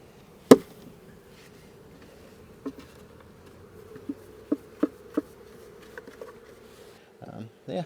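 Honeybees around an opened hive during an inspection with a bee brush. A low steady drone runs throughout, broken by a handful of sharp clicks and taps and a brief rustle near the end.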